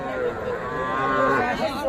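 A Sahiwal heifer calf at a busy rural cattle market in Ambari lets out one drawn-out, close moo, with faint crowd chatter underneath.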